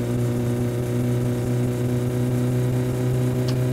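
Engine of the Satsuma car in My Summer Car, a steady loud droning hum with strong low tones, held constant and close with no breaks.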